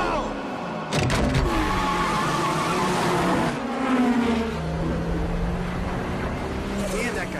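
Cars racing through the streets in a film street race between four drivers, with engines roaring and revving loudly, a sharp squeal, and shifting engine tones over a busy background.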